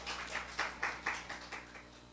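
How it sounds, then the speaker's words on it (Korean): A church congregation claps for God at a weekday morning service in a Seoul church, a faint, loose run of separate claps with an irregular rhythm, heard from a distance. "우리 하나님께 박수 올려드려."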